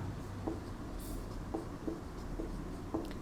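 Marker or chalk tapping and scraping on a board during a physics lecture, a few short strokes spaced about half a second apart under a steady room hiss, with no talking.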